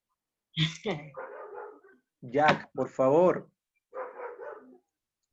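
A dog barks several times close by, loud sharp barks mixed with some whimpering, while a person speaks Spanish in between.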